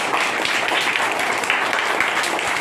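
Schoolchildren at a government primary school clap together in a dense, continuous burst of applause that stays loud and even throughout.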